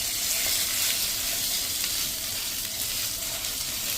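Bottle gourd and fenugreek muthiya sizzle steadily in a hot tempering over a medium flame, a bright, continuous crackling hiss with faint stirring underneath.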